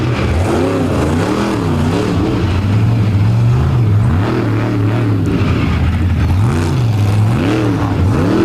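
A Ram truck's engine revs hard at the Indy Jamboree off-road event, loud and close, its pitch repeatedly climbing and dropping as the throttle is worked, with no talking.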